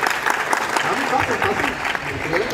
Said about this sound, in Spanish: Vamos a dar un aplauso a estos populares